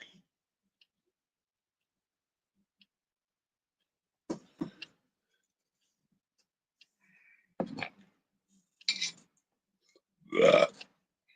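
Several separate burps sound in an otherwise quiet room, spaced out with silence between them. The last one is the longest and loudest, and a few faint clicks come in between.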